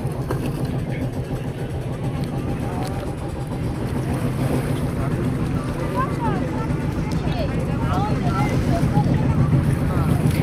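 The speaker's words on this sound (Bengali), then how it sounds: "আর কিছুক্ষণে এই যে বোট স্লো করে দিছে" A boat moving across the Nikli haor wetland in Kishoreganj, giving a steady low engine drone and water rush with wind over the microphone, as voices talk underneath.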